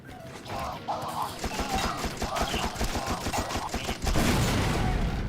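An American Tommy gun firing in the shooter You Are Empty, a sustained rattling automatic burst with rapid regular shots, ending in a heavier, noisier crash of impacts.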